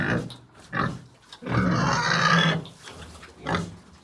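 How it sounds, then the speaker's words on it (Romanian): A pregnant Pietrain sow grunts in her farm pen, giving a few short low grunts and one longer rough, breathy grunt, fairly close and alone. "avem o viitoare mămică de pietran"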